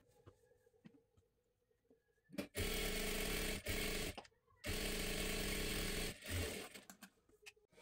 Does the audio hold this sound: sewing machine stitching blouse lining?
yes